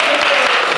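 Audience applause, a dense burst of clapping from a crowd, loud and close, lasting under a second.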